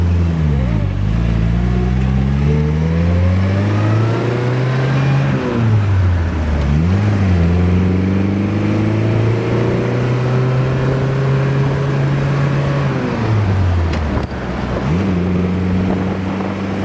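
A 1956 Triumph TR3 roadster engine revs up and shifts through several gears as the car drives away, pitch climbing and dropping repeatedly, with steady wind rush over the microphone.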